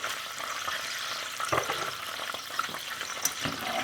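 A roux of fat and flour bubbles gently in a pan, a soft continuous sizzle dotted with small pops and occasional utensil taps.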